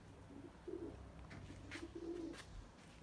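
Pigeons coo softly in the distance, two low, faint calls separated by a pause, with light rustling and ambient noise around them.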